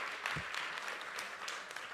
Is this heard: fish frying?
no